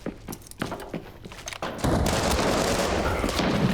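Gunfire in the shooter video game Arena Breakout: Infinite: a few scattered shots and thuds, then a loud, continuous burst of automatic fire that roars on to the end.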